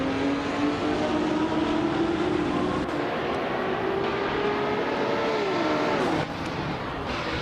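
A 1970 Ferrari 512 race car engine holds a loud, steady high-pitched drone mid-race, its pitch climbing and sagging through gear changes with a brief dip near the end and no talking.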